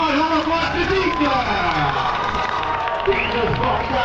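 Spectators at a stunt-driving show in Amilly cheer, shout and clap for a stuntman from Lyon, a dense, steady roar of many voices with children's yells mixed in throughout.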